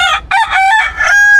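A rooster crows loudly and close by, one drawn-out cock-a-doodle-doo with a short break near the start, heard alone and clear on a Philippine farm.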